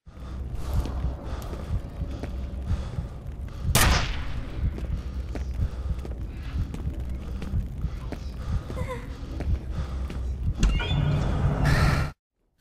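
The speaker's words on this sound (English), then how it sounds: "Then suddenly you'll find yourself in a shootout, desperately trying to take out the hostile guards in a heated firefight." Gunfire in a shootout in the PC game F.E.A.R., a dense rumbling firefight with repeated shots, one sharp loud blast near the start and a heavy burst before an abrupt cutoff at the end.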